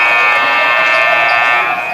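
A basketball game clock buzzer blares loud and continuous at a girls high school game, a harsh steady electronic tone holding for nearly two seconds with faint crowd noise beneath.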